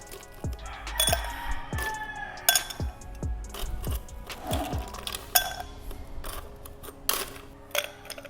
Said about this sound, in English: ice on the glass, but scoop of ice